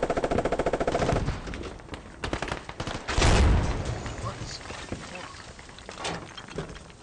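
Gunfire from a tank's machine gun in the military shooter Squad: a rapid, evenly spaced burst of shots at the start, then a heavy boom and scattered later shots.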